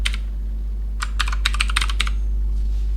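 Bursts of quick keystrokes on a computer keyboard while writing TeX code, close and crisp clicks clustered in a short run over a steady low hum, with no talk.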